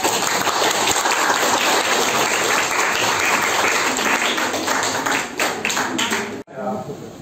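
Applause from a classroom of students for a group, loud, sustained clapping for about six seconds that cuts off abruptly, followed by a brief faint voice.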